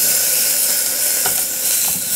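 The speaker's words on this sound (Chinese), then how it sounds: "我们要把牛排放去煎哦" Steak frying on low heat in an electric kettle, giving a steady close sizzle with faint crackles and a few brief pops, no talk.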